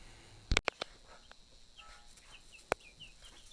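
Young chicks in a basement give faint, high chirps scattered through the quiet, with a few sharp knocks and clatters nearby.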